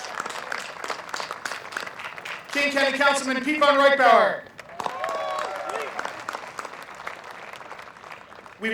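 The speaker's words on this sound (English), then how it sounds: "Let's give Gene a big round of applause" Crowd applause at the grand opening of a town square park, a continuous patter of clapping running under a voice speaking over a loudspeaker.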